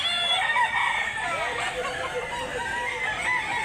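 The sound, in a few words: rooster crowing at a chicken market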